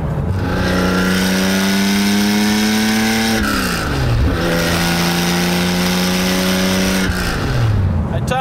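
An outlaw-style Porsche 911 with a 3.0 engine pulls hard in third gear, its loud engine note climbing steadily, dropping sharply at a shift, then climbing again before another drop, heard up close from inside.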